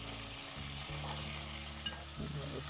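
Tomato hits hot oil with mustard seeds, cumin and green chilli in a pan for sambar, giving a dense, close, steady sizzle with some stirring and a faint tonal hum underneath.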